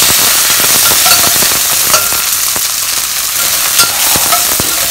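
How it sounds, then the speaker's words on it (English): Star anise and Sichuan peppercorns fry in hot oil with a loud, continuous sizzle, broken by sharp crackles and little pops scattered throughout, close to the pan. "Fry them until it's fragrant."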